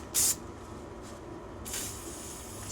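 Two short hissing bursts of PB Blaster penetrating oil aerosol spray onto a stuck driveshaft, the first sharp and brief, the second longer and softer, close by against a quiet background.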